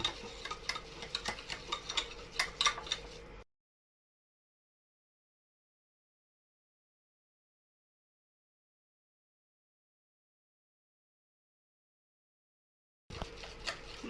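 Egyptian ta'ameya (falafel) mixture whipped by hand to work in air, giving brisk, rhythmic ticking and stirring strokes for a few seconds, then a long silence before the stirring briefly resumes.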